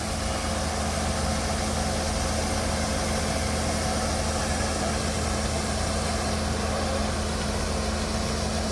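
A tractor engine drones steadily throughout, a constant mid-to-low rumble with a vibrating texture, moderately loud and heard alone without talk.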